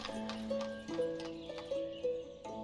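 Horses in the village-building game Ostriv: steady clip-clop hooves over a looping musical tone, with a whinny, faint and at a distance.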